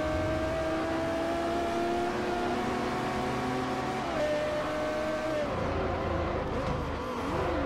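Race car engine in Forza Motorsport 4, a loud sustained whine holding steady with gear-shift pitch steps and a drop near the end, close and continuous, with faint talk underneath.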